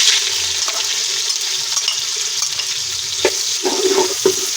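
Onions fry in hot ghee for chicken pulao, giving a loud, continuous hissing sizzle close by with occasional stirring knocks.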